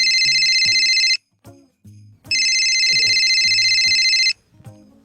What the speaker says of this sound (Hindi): रुखसाना का फोन